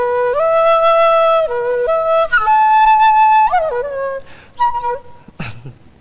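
A bamboo flute plays a clear, loud solo melody of held and sliding notes, ending with a few short breathy tones and a brief knock.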